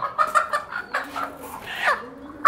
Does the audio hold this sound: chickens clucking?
yes